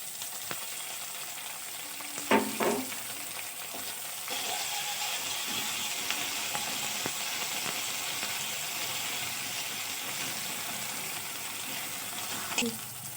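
Chopped tomato and garlic paste fry in a pan with a steady, soft sizzling hiss, broken by a few sharp utensil clinks from stirring near the start and end.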